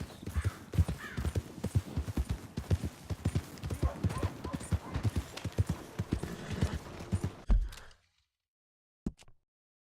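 Horse hooves clip-clop steadily in Red Dead Redemption 2, a dense, close rhythmic patter of hoofbeats that runs for most of the stretch, then stops abruptly, leaving near silence broken by a couple of faint knocks.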